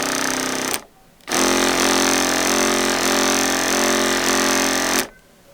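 An electric car wiper motor wired in reverse whirs steadily with a loud buzzing, rattling drone, switching on after a brief pause and cutting off cleanly near the end.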